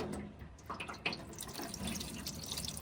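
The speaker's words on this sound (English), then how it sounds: "let's pour the water on and see what happens." Water poured onto the hood of a Camaro splashes and trickles in a faint, steady stream, with small drips and patters scattered across the running flow and no voices.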